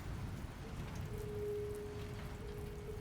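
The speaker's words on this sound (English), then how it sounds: "Might be raining out" Steady rain from the video game Death Stranding 2: On the Beach patters continuously over a low rumble, with a faint sustained tone running through the middle; no one speaks.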